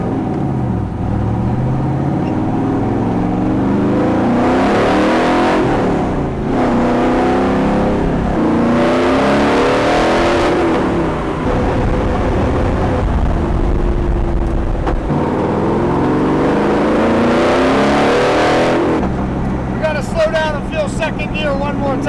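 Superlite SLC street-legal car driving and accelerating, its engine loud and close from inside the cabin, rising in pitch through repeated gear pulls, with talk over it in places.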